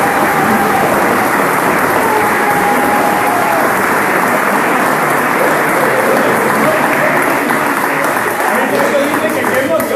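An audience at a homebrewing contest awards ceremony breaks into loud, sustained applause, a dense wall of clapping hands that carries on evenly throughout, with some voices mixed into the crowd noise.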